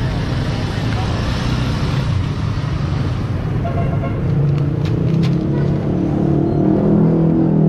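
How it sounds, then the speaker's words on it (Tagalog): Steady rumble of passing cars and trucks on Dapitan Street in Manila, a dense, continuous wash of engine and tire noise close by with no clear breaks. "Makikita natin yung volume ng sasakyan ng mga dumadaan dito"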